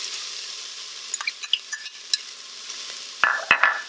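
Onions drop into hot oil in an Instant Pot on sauté, a steady bright sizzle running throughout with small crackles and a few louder spattering bursts near the end.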